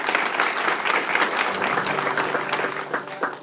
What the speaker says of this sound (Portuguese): Aplauda o Senhor nessa noite, amém?